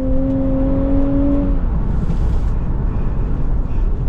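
A Nissan Fairlady Z Nismo, rear-wheel drive, roars hard under acceleration, a loud steady engine drone with a high tonal whine that holds and then drops away midway while the rumble continues.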